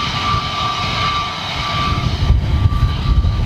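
Airbus A320neo jet engines at Manchester Airport roar steadily with a sustained whine, building into a heavier, rumbling low end toward the end.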